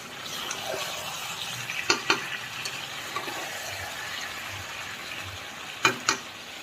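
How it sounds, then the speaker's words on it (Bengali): Curry is sautéed and stirred in a pan during kosha, with a low continuous sizzle and occasional sharp scrapes and clacks of the utensil against the pan, and no voices. "এবার এটাই কষিয়ে কষিয়ে করবো"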